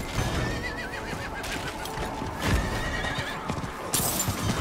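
Horse in the Diablo IV video game neighing and clip-clopping, hooves thudding in an uneven run with a whinny on top, fairly close.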